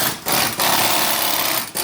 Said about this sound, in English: he's purposely using power tools